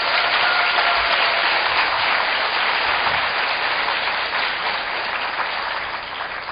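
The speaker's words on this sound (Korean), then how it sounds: "내년에도 했으면 좋겠다고 생각하시는 분은 큰 박수 부탁드립니다." Large audience applause at a Korean–Latin America cooperation event's intern dispatch information session, dense steady clapping filling the whole stretch, loud and close, tapering slightly toward the end with no talk.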